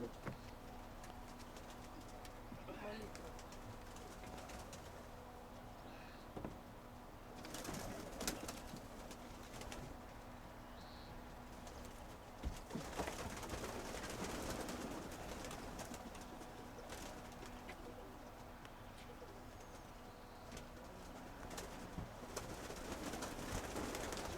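Pigeons cooing in a dovecote in the evening, soft low coos repeating under a steady background hiss with occasional rustles and thumps, faint and somewhat distant.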